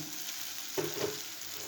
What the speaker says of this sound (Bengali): এখন আমি এই স্টেপটা দিয়ে দেবো গোবিন্দভোগ ভিজানো চাল